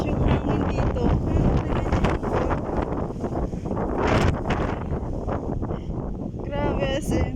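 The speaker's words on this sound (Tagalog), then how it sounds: "Tapos yung hangin dito." Strong gusting wind during a sandstorm in Kuwait, roaring and buffeting the microphone steadily throughout, with a person talking over it close by.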